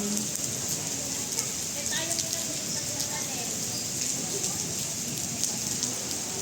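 Rain falls steadily at The Greenery in Bulacan, a constant close hiss with scattered drops pattering on surfaces, while people talk faintly underneath.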